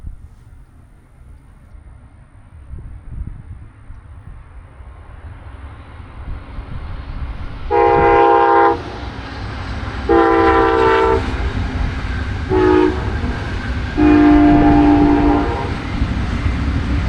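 Brightline passenger train passing northbound at a grade crossing in Florida. A rising rumble builds as it nears, then four loud horn blasts in a long-long-short-long pattern sound over the rolling wheel noise.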